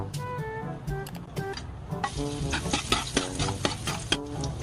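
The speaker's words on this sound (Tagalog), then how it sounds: "Mainit na yung mantika. Ilalagay ko na yung bawang." Garlic dropped into hot oil in a pan for a hotdog spaghetti sauce, with a fizzing, crackling sizzle that swells after a brief quieter start with some tonal sounds, close and steady with light scraping.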